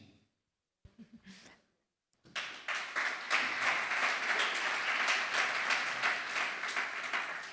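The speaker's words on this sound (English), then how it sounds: "I hope you were able to hear the big round of applause from our audience on site" An on-site audience at the Munich Summit Startup Creasphere Expo breaks into a big round of applause, dense and sustained clapping that starts after two seconds of near silence and a brief soft sound.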